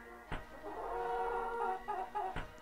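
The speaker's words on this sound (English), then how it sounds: "Chickens!" Chickens clucking in the business simulation game Capitalism Plus, a few faint clucks and fowl calls over low ambient farm noise, with two sharper clicks standing out.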